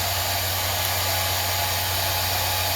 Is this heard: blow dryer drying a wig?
yes